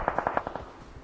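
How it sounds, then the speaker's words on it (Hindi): Rapid automatic gunfire in the mobile video game PUBG Mobile: a quick burst of about seven sharp shots in even rhythm, loud and close. "बरस दिया गोलियां"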